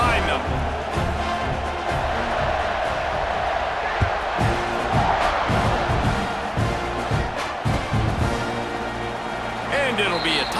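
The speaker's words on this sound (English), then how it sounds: "this crowd now ready to get behind them." A stadium crowd in an American football video game roars as a continuous loud murmur with swells of cheering, while a commentator talks over it.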